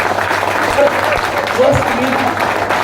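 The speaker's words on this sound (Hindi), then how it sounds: "एक बार अपने तालियां बजाएं" Audience applause at a business welcome event with people gathered from different places, a fairly loud wash of clapping that carries on throughout, with a couple of brief voices rising through it.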